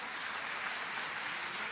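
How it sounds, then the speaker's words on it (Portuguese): A church congregation applauding during a sermon, a soft, even wash of many hands clapping, steady and somewhat distant without breaks. "Você consegue aplaudir ao Senhor pela sua palavra agora?"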